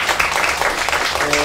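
A small group of people clap together to cast a vote, a short, close burst of brisk applause with voices talking and laughing under it.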